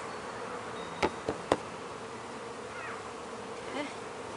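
A constant low buzz of many honeybees in an open hive hums throughout, with a few sharp clicks and knocks breaking through near the start.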